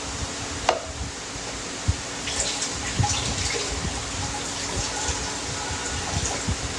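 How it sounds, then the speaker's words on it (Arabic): Water drains from rice in a kitchen, a continuous splashing, trickling pour with a few drips and knocks, close and steady, with no talk. "استني نصفي الرز بس من الميه"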